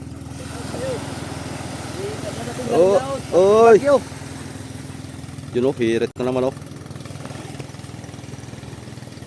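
A boat engine chugs steadily in the background while someone speaks briefly over it in two short bursts.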